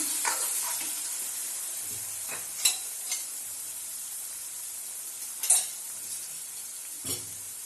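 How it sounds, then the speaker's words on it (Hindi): A spice mix of turmeric, garam masala, coriander powder and Kashmiri red chili is stirred through a cooking pan for turnip kofta, with a soft steady sizzle and a few scattered spoon scrapes, quiet and without talk. "इसको भी अच्छी तरीके से इसमें मिक्स कर देंगे।"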